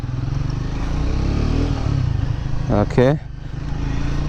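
A Triumph Speed 400 motorcycle's 400cc engine hums steadily while riding, with a quick rising rev burst near the end, heard close under a short spoken word.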